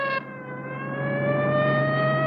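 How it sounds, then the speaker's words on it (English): A vintage film siren rising in a long, steady wail, loud and sustained, with a brief higher tone cutting off at the very start. "That's when a siren was a siren."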